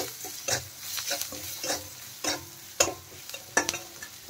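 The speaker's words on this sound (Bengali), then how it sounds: "টেস্ট হিসাবে আমি দেখেন নুন দিয়ে দিলাম, হলুদ গুঁড়ো, নেড়ে চেড়ে আরেকটু মশলা কষিয়ে নেব" Spices with salt and turmeric sizzle in a frying pan while a spatula stirs them, giving a run of sharp scraping strokes every half second or so over a soft, low fry, close and without speech.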